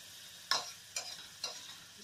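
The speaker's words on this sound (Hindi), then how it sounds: "तो मसाला अच्छे से भून जाएगा तो हम इसमें वेजिटेबल डालेंगे।" Masala spices sautéing in ghee in a pan for vegetable pulao, heard as a low sizzle broken by four sharp scraping stirs spaced about half a second apart, close and fairly quiet.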